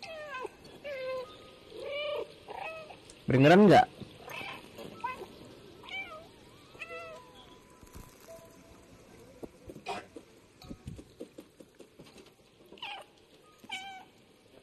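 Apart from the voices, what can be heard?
cat meowing in the video game Stray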